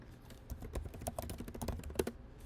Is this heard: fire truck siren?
no